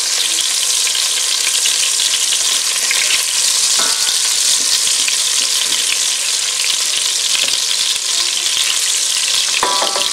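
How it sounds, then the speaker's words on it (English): About 120 grams of butter browning in a pan for a shellfish bisque, stirred steadily, gives a loud, dense, unbroken sizzle with occasional faint scrapes, close up and without talk. "In the bottom here we've started to get a nice little bit of colour from the butter. Keep it moving around so no one part of it actually burns."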